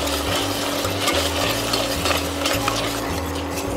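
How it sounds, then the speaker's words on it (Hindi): A spoon stirs and mashes sweet potato halwa cooking in milk without ghee, giving soft rhythmic scraping and faint sizzling in a pan over a steady low hum, with no talking. "जब तक ये दूध जल ना जाए इसे हम चलाएंगे और मैश करेंगे अच्छी तरीके से।"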